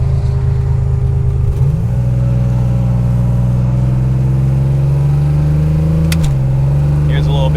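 A 1987 Buick Grand National engine, heard from inside the car on the road, hums steadily and then rises in pitch as it rolls into acceleration before easing off. The engine note is loud and continuous throughout.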